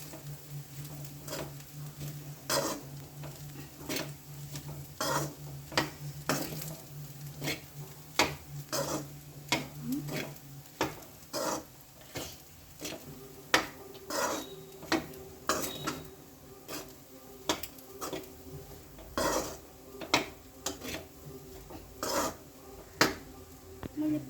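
A spoon scrapes and taps against a pan while egg rice with turmeric is mixed, making repeated short clinks and scrapes at an uneven rhythm, fairly faint, with a low hum in the background.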